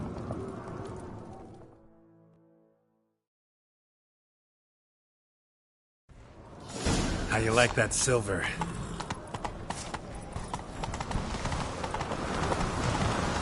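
Someone speaks briefly, then after a pause comes loud, dense drumming of horse hooves galloping in a PS4 video game, mixed with game sound.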